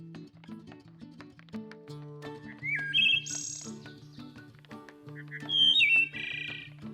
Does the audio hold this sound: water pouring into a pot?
no